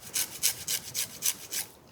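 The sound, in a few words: grating lime zest coarsely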